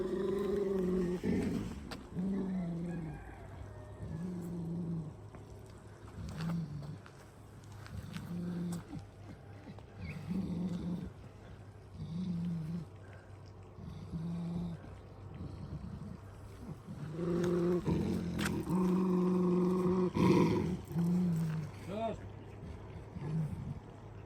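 Dogs growl and snarl at each other in repeated low, rumbling bursts, with voices talking over them throughout.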